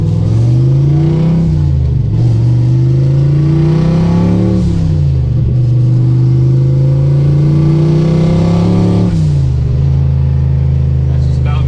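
A turbocharged 1986 Ford Mustang accelerating on the highway at part throttle under boost, with a loud in-cabin engine drone that rises in pitch through several gear pulls, dipping briefly at each shift, over steady road rumble.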